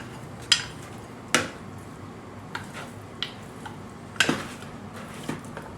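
A utensil stirring a pork rib mixture with sesame oil in a kitchen pot gives about six sharp metallic clinks and knocks at uneven intervals, close by, with no talking.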